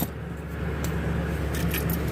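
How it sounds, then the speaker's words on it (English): Keys jingle as a car key slides into the ignition of a 2016 car, a few small metallic clinks close by over a steady low hum from the vehicle. "put your key in the ignition"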